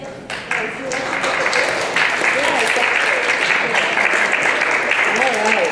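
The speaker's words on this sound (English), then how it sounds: "applause for them" A group audience claps steadily after a training presentation, with sustained applause filling the room from start to finish at a fairly loud, even level.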